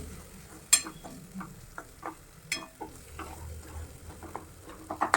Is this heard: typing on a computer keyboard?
no